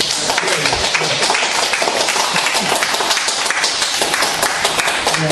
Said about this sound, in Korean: 우리 한번 여기 떠나가라고 박수 한번 해주시기 바랍니다.